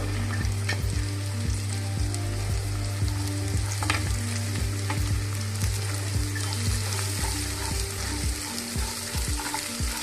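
Onions and chopped haricot beans sizzling loudly in a pan for vermicelli upma, stirred continuously with a spoon that scrapes and clatters rhythmically over the steady frying hiss, close up with no speech.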